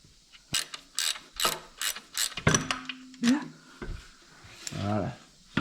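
Ratchet wrench clicking while removing a leftover screw from a Kia Sorento differential in a garage, several short bursts of close ratcheting with people talking in between.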